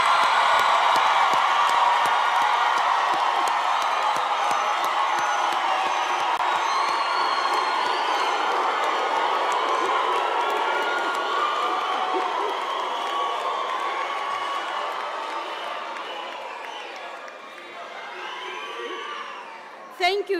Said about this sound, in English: Can you stand up and we give them a round of applause?